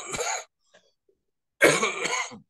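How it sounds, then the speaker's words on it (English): A person coughs twice, a short burst at the start and a longer, louder fit after a pause, close to the mic with no talk. "sorry with the cough"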